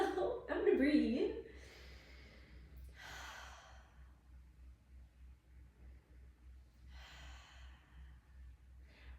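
A person breathes out heavily after sidelying hip strength exercises, with a loud sigh at the start and slower, fainter exhales following.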